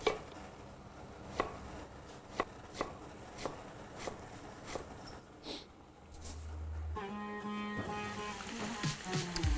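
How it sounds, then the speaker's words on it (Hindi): Knife chopping an onion on a board, about nine crisp separate cuts at a steady pace, then a sizzling pan takes over near the end, no voices heard. "एक प्याज जो है वो शगन के लिए चॉप कर लेते हैं,"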